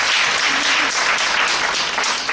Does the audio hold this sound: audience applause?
yes